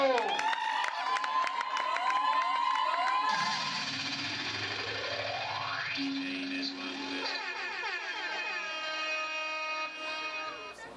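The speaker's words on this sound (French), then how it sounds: "Sous vos applaudissements, nous allons recevoir Chris Olingo." An audience at an art school event cheers for an arriving guest performer with loud whoops, rising whistle-like shouts and scattered clapping, a busy, strongly voiced crowd sound.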